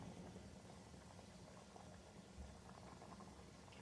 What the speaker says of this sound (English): We're gonna let it boil, hard boil like that for another 10 minutes.